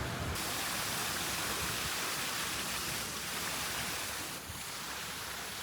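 Water jets splash steadily into a resort swimming pool, a constant broad rushing spray close by with no pauses.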